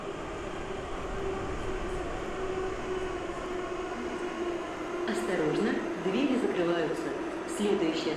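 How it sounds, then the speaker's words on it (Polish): A Moscow metro train in a Roblox video game rumbles steadily along the track, with a brief rising whine near the end and a voice talking over it. "Przejedziemy się moskiewskim metrem."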